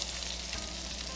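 A Monte Cristo sandwich with Gouda cheese frying in a pan, giving a steady, even sizzle that is fairly quiet and continuous through the short moment, with no talking.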